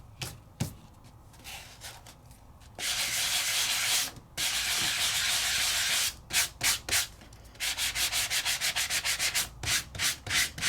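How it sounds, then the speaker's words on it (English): A Sizzix sanding block rubbed over embossed sandable paper on a treat topper, with long continuous scraping strokes and then quick rhythmic back-and-forth rubs, close and loud, with no speech. "That means I can go in there with my Sizzix sanding block."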